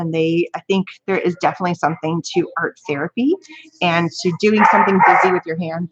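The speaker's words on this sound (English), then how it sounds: "so sorry about the noise upstairs, the dog." A dog barks upstairs indoors, with muffled yips and barks partly buried under a person talking steadily close to the microphone.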